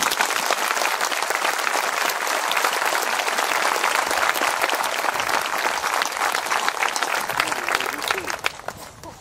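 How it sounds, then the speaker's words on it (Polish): A large crowd applauds at an outdoor Mass in Paradyż during the Warsaw walking pilgrimage to Jasna Góra, with loud, dense clapping that holds for about nine seconds before thinning toward the end. "Myślę, że nasze oklaski nie będą drewniane, tylko prawdziwe."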